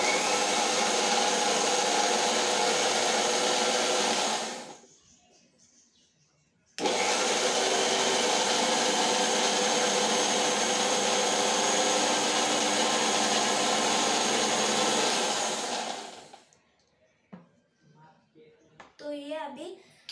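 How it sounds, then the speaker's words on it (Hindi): A blender whirs loud and steady while blending a strawberry shake, stopping briefly around five seconds, then running again for about ten seconds before shutting off into handling noises. "इसको अच्छे से ब्लेंड करना है क्योंकि इसमें स्ट्रॉबेरीज नहीं रहनी चाहिए।"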